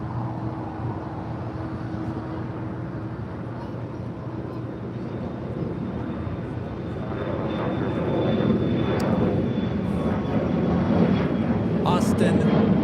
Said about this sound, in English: This flight is the flight coming in from Tokyo, Narita. Flight 33 on the 787-10 Dreamliner